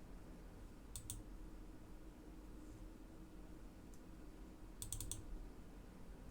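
A computer keyboard clicks in two short, quiet bursts of quick keystrokes, a few seconds apart, over a faint steady room hiss.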